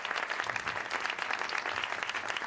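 A studio audience claps for Neil on a celebrity talk show, a dense, even burst of applause filling the whole short stretch without letup.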